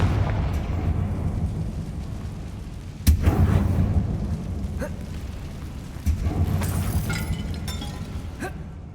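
Two Confringo blasting-spell explosions go off inside a mine in Hogwarts Legacy, sharp booming bursts about three seconds apart, each followed by rumbling debris over low ambient game noise.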